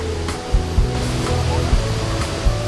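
Rushing water at Chet Si waterfall in Bueng Kan, Thailand, a loud, close, continuous roar with occasional heavier splashes and thumps throughout.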